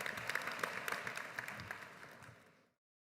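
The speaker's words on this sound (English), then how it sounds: "Please join me in offering a warm round of applause" Audience applause at a high school graduation ceremony, a moderately sized crowd clapping steadily at a distance, somewhat faint, then fading and cutting to silence.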